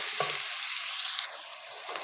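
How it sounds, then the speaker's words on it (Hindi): Onion, tomato and chicken sizzle in a pot, a bright steady hiss with a few soft scraping stirs, close by, easing slightly after the first second, no talking. "ये प्याज और टमाटर अच्छी तरह इसमें फ्राई हो चुका है"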